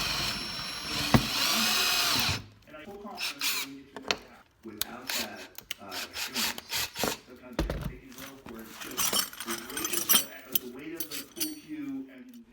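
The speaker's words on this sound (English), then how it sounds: "took my drill bit and drilled a couple of holes. It's kind of satisfying drilling into that ABS." A drill bit boring holes into ABS plastic gives a loud, steady whirring grind for about two seconds, then stops and leaves quieter clattering handling noises.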